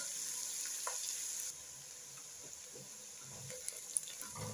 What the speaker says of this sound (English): So our onions are cooking, they are starting to brown, but they are not yet there.